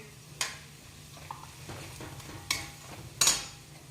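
Dry spices are stirred into golden brown onions frying in a pan, with a soft sizzle and several sharp spoon scrapes and clinks against the metal, spaced irregularly and fairly close.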